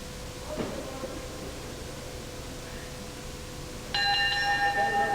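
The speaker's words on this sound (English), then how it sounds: "On the bell, and Roach doesn't have to bother about that" A wrestling round bell rings at a televised bout between Steve Logan and Pat Roach, a bright sustained metallic clang arriving late over steady crowd hiss and lingering.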